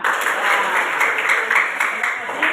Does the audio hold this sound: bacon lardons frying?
no